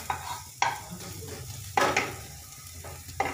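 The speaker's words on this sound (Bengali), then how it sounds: "এটাকে আমি একটু সতে করে নেব, হালকা করে ভেজে নেব ঘি এর মধ্যে" Vegetables sauté in hot ghee with a steady close sizzle, broken by several sharp scraping stirs of a spatula against the pan.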